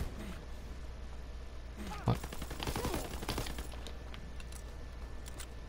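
Gunfire in Call of Duty WWII gameplay, a short burst of rapid shots at moderate distance that stands out from a quiet background partway through. Someone talks at times.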